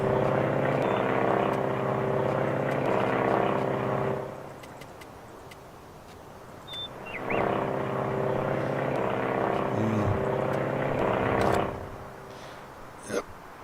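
An aircraft in the Farming Simulator 19 video game drones steadily with a loud engine hum that fades for a few seconds in the middle and then swells back before dropping away, with faint speech in places.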